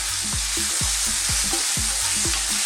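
Lamb pieces sizzle loudly in a hot pan for rosemary lamb and potato stew, with a steady frying hiss broken by regular scraping tosses of the meat about every half second.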